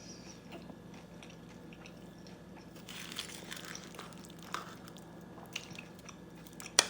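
Someone chewing cheesy mac and cheese close up: soft, wet mashing and crunchy bites that grow busier midway, with a few sharper clicks and a louder snap at the end, no talk.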